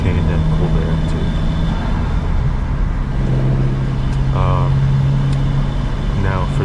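A 250 whp Honda Civic Si with its stock exhaust and a K&N cold air intake idles in a steady, close, loud engine drone with a constant low hum.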